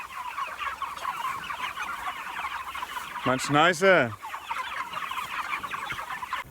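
Chickens on grass pasture cluck in a steady, busy chatter, with a louder burst of nearby fowl calls about halfway through; a voice speaks briefly.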